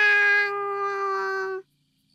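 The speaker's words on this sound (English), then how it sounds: "The kitten meows after her, but she doesn't turn back." A single clear kitten meow from a video game, bright and tonal, held for about a second and a half before cutting off into silence.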